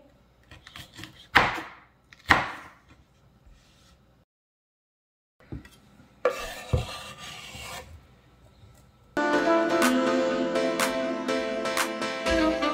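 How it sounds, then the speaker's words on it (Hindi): A knife cuts green bell pepper into thick pieces on a board: a few sharp, separate cuts, a silent pause, then a dense run of close rasping slices toward the end. "ग्रीन शिमला मिर्च को हम थोड़े से मोटे पीसेस में कट करेंगे।"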